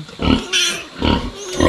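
Pigs and piglets on a Philippine backyard farm grunt and squeal in loud, close, overlapping bursts in quick succession, with no talking over them.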